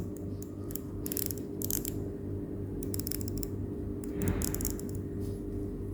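A dry, clicking ratchet sound comes in short bursts as an infrared cooker's control knob is turned, over a constant low mechanical hum.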